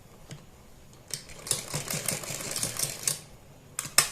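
A sewing machine stitching a strip onto a fabric neckline gives a mechanical rattling run of about two seconds, with isolated clicks before it and near the end, close by and without speech.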